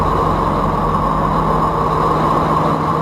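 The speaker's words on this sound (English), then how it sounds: "This is what the 212 Alpha sounds like when using its conventional diesel engine." A German Navy 212 Alpha submarine runs on its conventional diesel engine, giving a steady, loud, droning hum with a deep low rumble that stays even throughout.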